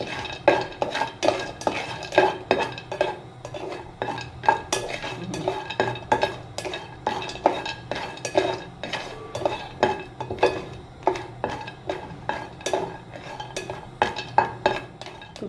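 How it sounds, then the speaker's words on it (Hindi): Almonds are stirred and roasted in a pan, a spoon scraping and clinking against the metal in quick, rhythmic strokes that continue steadily with no talk. "अब मैं इससे जो है रोस्ट करूँगी, फटाफट हाथ चलाना है मुझे।"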